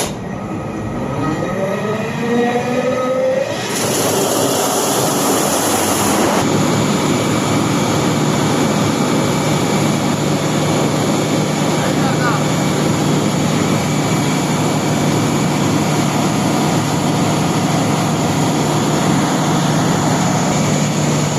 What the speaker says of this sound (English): So first I start the generator.